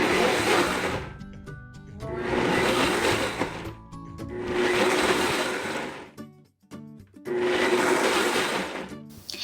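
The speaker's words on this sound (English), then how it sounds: "We're gonna use our blender to do 3 short pulses to mix everything together." A kitchen blender pulses baba ganoush ingredients in several loud, whirring bursts of about two seconds each, separated by brief pauses, with no talking.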